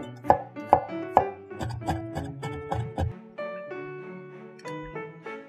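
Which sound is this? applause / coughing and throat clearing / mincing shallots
mincing shallots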